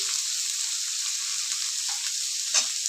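Taro leaves with a hilsa fish head stir-fried in a pan, giving a steady, soft, close hiss of frying with a few faint scrapes from stirring, and no voices.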